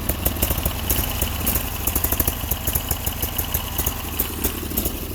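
A Bolens Eliminator hydrostatic lawn tractor engine runs steadily up close with a rough, pulsing rhythm, loud and continuous throughout.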